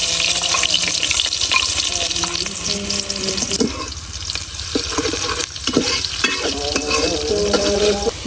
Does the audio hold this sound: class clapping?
no